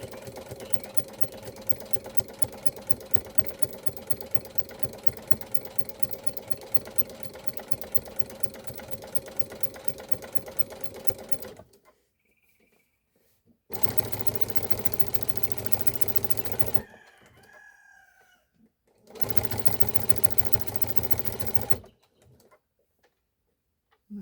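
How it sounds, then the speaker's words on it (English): A sewing machine quilting fabric runs in a fast, steady stitching rattle for about twelve seconds, then in two shorter bursts separated by quiet pauses with faint chirps. "Help you hold and feed the fabric through the machine."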